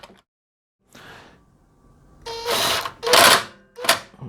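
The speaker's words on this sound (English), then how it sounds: "You can use a ratchet if you don't want to over tighten it." A ratchet tightening a bolt into the metal housing of a Generac 4000XL generator gives a few short, loud, close bursts of rapid clicking separated by brief pauses, preceded by a fainter rustle.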